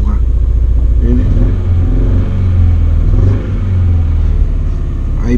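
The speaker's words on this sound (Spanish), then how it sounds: "Vamos a prenderlo. Miren, ahí el auto arrancó" A car engine starts and settles into a steady idle, with a loud low rumble running throughout while someone talks over it.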